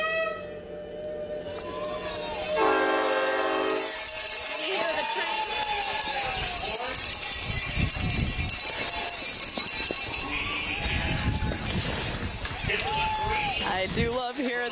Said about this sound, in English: I do love hearing that train horn to start that race.